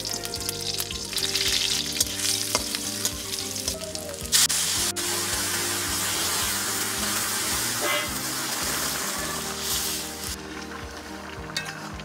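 Red taro curry sizzling loudly in a pan with salt, turmeric, cumin paste and dried chilli paste, a steady close frying hiss throughout with a few stirring knocks.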